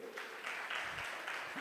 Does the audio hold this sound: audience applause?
yes